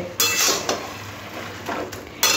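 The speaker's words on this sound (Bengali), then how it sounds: "খুন্তি দিয়ে একটু ঘেটে ঘেটে দেবো" A spatula scrapes and stirs through boiled cabbage, potato and pea curry in a pot, giving a few close, rough metallic strokes with short pauses between them, with no voices.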